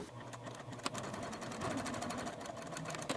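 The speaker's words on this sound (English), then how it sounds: "I'm going to take it to the sewing machine and do a top stitch" A sewing machine stitching in a rapid, steady mechanical rhythm, close by and continuous throughout.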